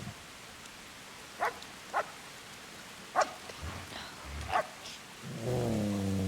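Dog barking in the Kingdom Come: Deliverance video game amid rain, a handful of sharp, isolated barks spaced across the clip over a steady rain-like hiss, followed by a louder sustained tonal sound at the end.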